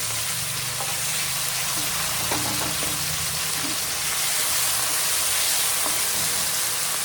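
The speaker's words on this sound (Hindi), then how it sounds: "ये टमाटर, प्याज और मसाला, इन तीनों को पहले ढंग से भून लें।" Tomato, onion and spices fry in a pan for an Uttarakhand thichodi, giving a steady broadband sizzle with a few faint utensil taps, continuous and fairly close with no talking.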